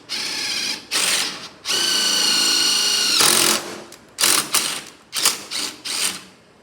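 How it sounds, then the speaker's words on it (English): A small-diameter drill bit bores a hole in bursts: a high, whining motor runs for a few seconds at a time, then stops, followed by several shorter spurts, all close and loud without speech. "So first he drills with a smaller diameter drill bit."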